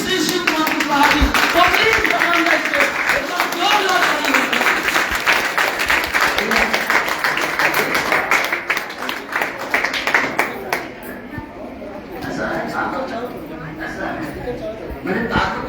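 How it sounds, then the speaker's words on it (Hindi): A seminar audience applauds to welcome a speaker, with loud sustained clapping from a crowd that gradually thins toward the end, mixed with some chatter. "आप सभी लोग अपने स्थान में खड़े होकर के और उनका वेलकम करते हैं, स्वागत करते हैं हमारे बीच में आदरणीय श्री शिव कुमार कुशवाह"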